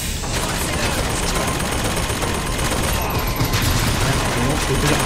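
Turret in BioShock Infinite firing a dense, continuous stream of rapid gunfire, loud and unbroken throughout amid chaotic game noise.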